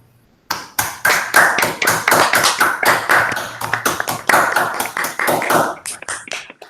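Clapping from an online audience thanking a lecturer after a physics talk, heard through an open microphone as a close, sharp run of individual claps with a distinct, slightly uneven rhythm, fading near the end.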